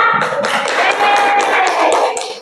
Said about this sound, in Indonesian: Tepuk tangan buat Vera.